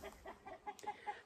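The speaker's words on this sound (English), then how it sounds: "if you can hear me over the chickens" Chickens cluck in a steady run of short, evenly spaced calls in a garden setting, nearby and moderately quiet, with no talking over them.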